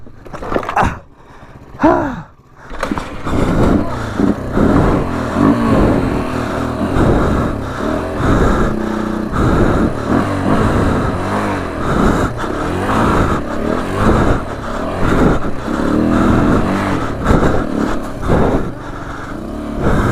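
A Honda XR200 enduro motorcycle revving hard while being ridden on an enduro trail, its engine loud, close and continuous, rising and falling with throttle changes.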